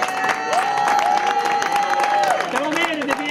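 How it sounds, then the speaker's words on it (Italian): Crowd applause for Pietro La Porta at a gathering in Favignana, dense clapping mixed with shouts and a sustained whistle or tone, voices calling out over it throughout. "Pietro La Porta, un applauso."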